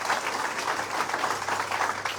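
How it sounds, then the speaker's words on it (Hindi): An audience in Patna gives loud, sustained applause honoring doctors who served as COVID warriors; dense, steady clapping fills the whole stretch without letting up. "जोरदार ताली उनके लिए, जोरदार ताली।"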